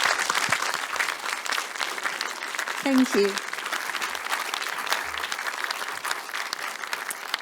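Audience applause at a Liberal Democrat conference session in Birmingham, honouring an MP; a sustained wash of clapping from the crowd throughout, with a brief spoken thanks over it.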